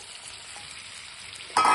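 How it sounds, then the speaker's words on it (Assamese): Chicken pieces with green chilli sizzle and fry in a pan, a steady close crackle that bursts louder right at the end as more goes in. "এতিয়া মই ইয়াতে চিকেনখিনি দি দিম"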